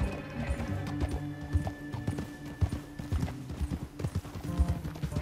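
A horse in Red Dead Redemption 2 clip-clops at a steady walk, its hooves thudding clearly and close in a continuous rhythm, with faint tack jingles over a low ambient bed.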